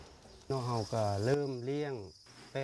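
Farmed crickets chirp in a steady, high, continuous trill that runs through the whole stretch while a person speaks over it.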